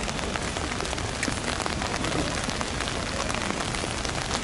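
Rain falls steadily on surfaces during an outdoor candlelight rally in Seattle, a dense, even patter of drops that holds throughout with no talk.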